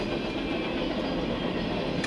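Tail end of a CSX freight train rolling past on the tracks, a steady dense rumble of railcars with faint wheel clatter throughout, fairly close and continuous.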